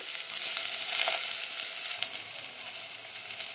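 Capsicum and unpeeled washed potatoes sizzle in a pot for khichdi, a continuous bright frying hiss with small crackles and pops, fairly soft and without voices.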